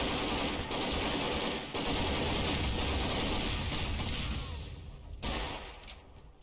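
Gunfire in Garry's Mod during a SWAT versus Mr. X fight, dense continuous machine-gun bursts rattling loud and close with brief gaps between volleys.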